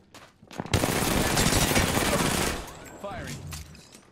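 Sustained automatic gunfire erupts in a video game shootout, a dense, loud burst lasting a couple of seconds before it tapers off, with a player's voice in the mix.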